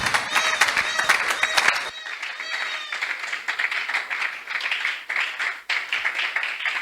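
A church seminar congregation claps hands for Jesus, dense rhythmic applause filling the room, with a singing or chanting voice over the first two seconds before the clapping continues alone and steady.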